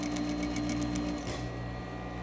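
Steady rapid whirring of a sewing machine stitching in the ditch along a skirt waistband, close and continuous, slowing slightly near the end.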